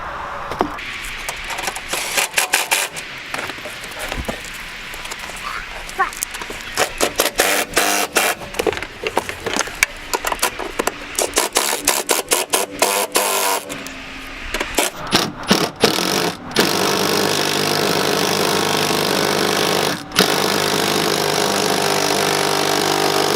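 An impact wrench tightens the bolts of a racing seat in a Nissan 350Z, firing in rapid, repeated hammering bursts, then settling into a steadier loud whirr toward the end.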